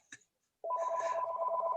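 A cell phone rings indoors at an officers' installation: after a short click and pause, a loud, close electronic tone starts and warbles in a rapid, steady trill until the end.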